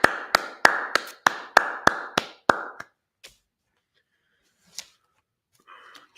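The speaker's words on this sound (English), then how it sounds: "Let's go ahead and clap that up." A church congregation at a Sabbath service in Indianapolis claps: about ten sharp, evenly spaced claps over two and a half seconds, then they stop abruptly into near silence with a few faint knocks.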